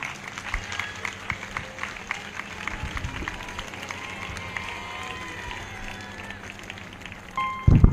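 Church congregation at a live prophetic ministry service clapping loudly in unison, a dense run of sharp claps filling the room, with a sudden louder burst near the end.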